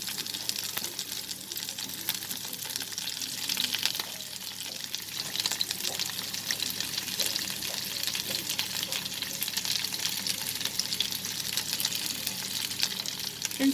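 Chopped onions added to hot oil with garlic in a pan for a chicken dish, frying with a steady, even sizzle and occasional stirring clicks, close and continuous for about fourteen seconds without talk.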